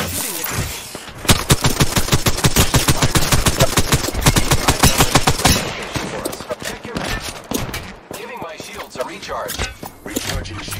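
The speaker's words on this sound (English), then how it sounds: "The enemies are shooting at me." Rapid enemy gunfire in Apex Legends, a dense stream of close, loud automatic shots that runs for several seconds before breaking into scattered bursts and game noise.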